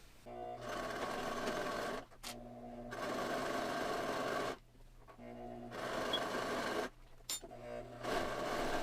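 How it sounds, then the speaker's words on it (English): Sewing machine stitching fabric for reusable grocery bags, running in steady bursts of a few seconds each with brief pauses between, close and fairly loud. "So yeah, we're going to go ahead and sew these up."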